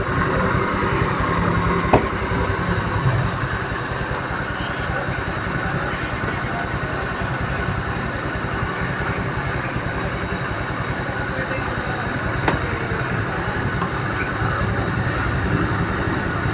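A GY6 scooter engine idles steadily after a carburetor replacement, a smooth continuous drone at even volume with no stalling, heard up close for the whole stretch with a couple of faint clicks.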